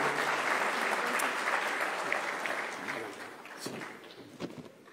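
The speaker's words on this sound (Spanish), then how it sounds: "Para todos ellos, bienvenidos, un aplauso" Audience applause at a conference session in Colombia, a dense steady wash of many hands clapping that slowly thins and fades toward the end, with a few louder individual claps standing out.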